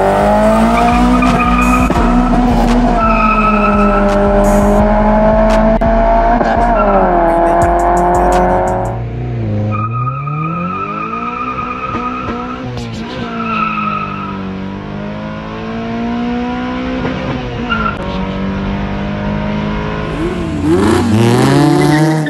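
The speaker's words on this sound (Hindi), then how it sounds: "जिसमें गाड़ी अपना जोश दिखा रही है, अपना वीटेक चला के दिखा रही है" A Honda car with an H22A engine screams through repeated high revs into VTEC, pitch climbing and dropping between shifts, with tires squealing and skidding loudly close by.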